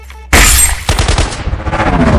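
Gunfire sound effect in a dramatized story: a sudden loud blast followed by a rapid burst of repeated shots that trail off with ringing echoes.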